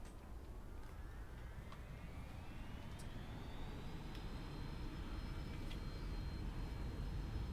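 Aircraft engine in a flight simulator rising in pitch during takeoff, a steady broadband roar with a whine climbing over several seconds, no talk.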